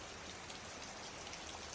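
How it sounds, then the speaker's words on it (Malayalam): Heavy morning rain pours down steadily in Kerala, a dense, continuous hiss of drops with no pauses. "രാവിലെ നല്ല കിടില മഴയാണ്"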